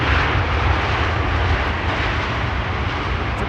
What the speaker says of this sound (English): this is KLM flight 792, arriving from Sao Paulo